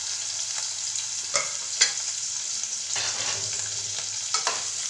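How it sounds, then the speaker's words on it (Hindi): Chopped onion and green chilies hitting hot oil give a steady, close hiss of frying, broken by a few brief spatters and utensil taps, with no one speaking. "तेल गर्म हो गया है, तो इसे मैंने एक कटा हुआ प्याज और कुछ हरी मिर्ची डाल दी है"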